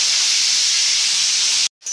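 Potato strips coated in salt and turmeric frying in a pan give a loud, steady, bright sizzling hiss that cuts off abruptly near the end.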